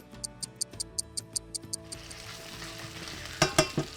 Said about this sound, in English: I'm gonna let this go for 4 or 5 minutes, just stirring it intermittently throughout